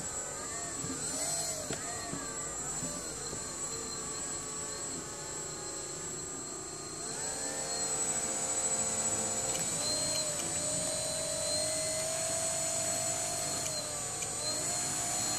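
Electric motors on an RC VTOL aircraft whine steadily during a test hover, their high buzzing pitch rising and falling as the thrust changes, heard close and continuous throughout.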